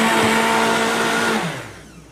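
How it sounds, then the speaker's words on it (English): A blender whirs loud and steady as it purees raw vegetables and a couple of apples, its motor whine holding for over a second before spinning down and fading out. "Now, this is really pretty easy if you've just got vegetables and a couple of apples. Throw it in here and blend it."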